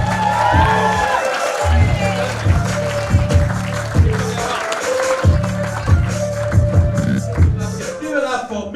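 A comedy show audience cheers and claps for the MC, a steady crowd roar with rhythmic clapping running throughout under a loud voice on the mic.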